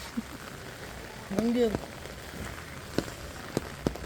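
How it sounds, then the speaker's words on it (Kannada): Rain falls outdoors as a soft, steady patter, with a brief tonal chirp in the middle and a few sharper drip-like ticks. "ಮಳೆ ಬರತ್ತೆ ನೋಡಿ"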